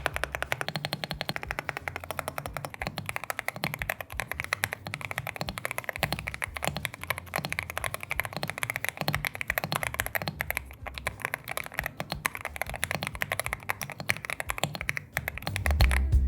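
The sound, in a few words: typing on Epomaker TH80 Pro V2 mechanical keyboard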